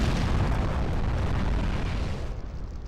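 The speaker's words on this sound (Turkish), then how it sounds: "Bomba patladı." A bomb goes off in a video game with a loud, deep, rumbling boom that rolls on and slowly fades over about three seconds.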